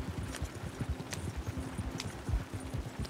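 Horse hooves clip-clopping in Red Dead Redemption 2, a steady rhythmic trot of hard hoof falls with a faint rolling rumble beneath, moderately close and continuous with no talk.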